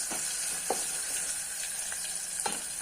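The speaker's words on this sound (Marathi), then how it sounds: "टोमॅटो असं छान परतत आला आहे" Chopped tomatoes sauté in a pan for matki rassa, a Maharashtrian sprouted moth bean curry, giving a constant hiss of frying with a few soft spatula taps and stirs, close and steady, no talking.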